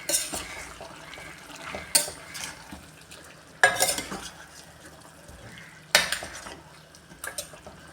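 Chicken roast masala stirred in a pan with a spoon that scrapes steadily and clanks sharply against the metal about every two seconds, close and fairly loud, with no talking.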